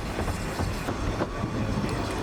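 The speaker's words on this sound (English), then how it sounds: "As our little train chuffs on its way" Lynton & Barnstaple Railway narrow-gauge steam train running through open countryside, giving a steady rumbling rail noise with faint rhythmic chuffs and wheel clatter, continuous and moderately loud.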